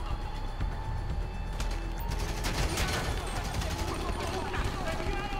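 Gunfire in GTA Online during a Cayo Perico heist getaway, with loud, dense bursts of shots crackling throughout under shouted talk.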